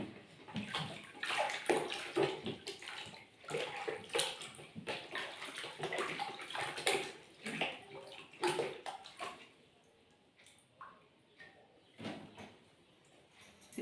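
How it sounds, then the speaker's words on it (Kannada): Water splashing and sloshing in a basin as feet are washed in fresh water, with repeated close splashes and pours in bursts, quieter stretches between and a final splash near the end. "ಈಗ ಆ ನೀರಲ್ಲಿ ಸರಿ ಕಾಲನ್ನ ವಾಶ್ ಮಾಡ್ತೀನಿ"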